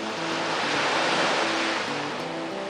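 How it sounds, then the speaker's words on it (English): Atlantic Ocean surf breaks against the rock jetties at Folly Beach, South Carolina, as a steady, loud, broadband roar with no voices. "Water breaking on the jetties."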